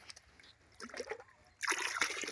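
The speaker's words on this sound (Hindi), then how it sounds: "1 लीटर का ये मग है, इससे 5 लीटर हम पानी को डालते हैं" Water pours from a one-litre mug into a container while mixing liquid fertiliser from mustard cake, with a light trickle first and then a louder, steady splashing stream close by.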